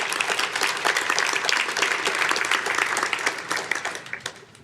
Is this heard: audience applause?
yes